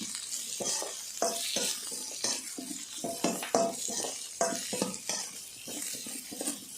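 Glass noodles with black pepper are stir-fried in a pan, giving a steady sizzle broken by rhythmic scraping and clinking of a utensil against the pan, close and continuous.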